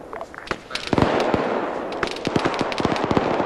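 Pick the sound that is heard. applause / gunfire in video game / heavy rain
gunfire in video game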